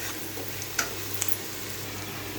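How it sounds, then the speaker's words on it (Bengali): Vegetables dusted with turmeric fry quietly in a pan for a thin fish curry, a low continuous sizzle broken by two brief clicks of a spatula; no talking. "একটু হলুদ দিয়ে আমি আরেকটু ভাজবো"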